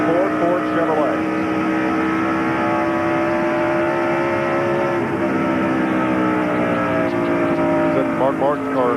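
NASCAR Winston Cup race cars, Fords and Chevrolets, race at Dover Downs in 1992: a loud, continuous roar of engines with rising, overlapping pitches as cars pass, with commentary over it.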